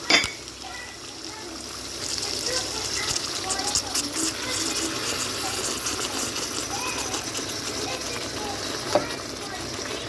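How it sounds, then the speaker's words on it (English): Water splashes into a hot pan with a sharp sizzle at first, followed by steady bubbling and hissing close by. "I'll be adding water, but only this much."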